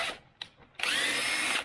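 A power tool driving out a 10mm bolt on a 6th-gen 2016+ V6 Camaro: two quiet clicks, then a loud, steady close-up whir that runs for nearly a second, with no talking.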